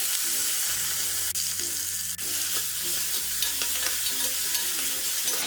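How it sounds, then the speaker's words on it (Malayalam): Chopped onion, green chilli and ginger frying in hot oil, a bright continuous sizzle with stirring scrapes, background music underneath. "എണ്ണ ഇവിടെ ചൂടായി വരുന്നുണ്ട്. ഇതിലേക്ക് ഈ ചെറുതായിട്ട് അരിഞ്ഞു വെച്ചിരിക്കുന്ന സവോളയും പച്ചമുളകും ഇഞ്ചിയും കൂടി ഇട്ട് കൊടുക്കാം."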